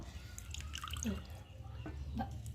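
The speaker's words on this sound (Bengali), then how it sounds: "হালকা করে ধুয়ে জলটাকে ঝেড়ে দেখো তুলে নিচ্ছি" A bottle gourd is rinsed in a basin of water and shaken dry. Close, irregular drips and small splashes play over a low background rumble.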